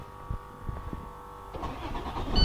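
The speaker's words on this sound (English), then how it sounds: "And now I'm going to go ahead and start the vehicle." A school bus engine cranks and catches, with starter whirring under a steady hum before the motor fires up and rises into a louder running idle near the end.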